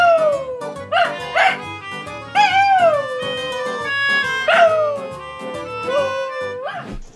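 A dachshund howls in long, wavering harmonic notes that rise and fall in repeated phrases, close and loud, with yips and whimpers between the howls and tonal music-like accompaniment beneath.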